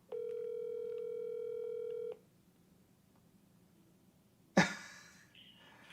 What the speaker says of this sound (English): Let's see if she answers the phone.